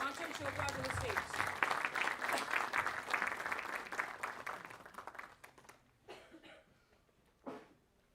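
Audience applause at an industry panel event, a room of clapping that swells and holds for several seconds, then thins out to scattered claps and a cough before fading.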